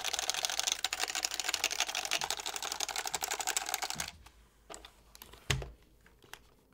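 Rapid clacky typing on a stock, unlubed HHKB Professional Hybrid keyboard, dense close keystrokes for about four seconds, then a few scattered taps and thumps.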